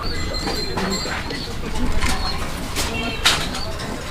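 Soft Lahori pigeon cooing with a low, rumbling murmur over a noisy background, plus a brief flutter or rustle near the end.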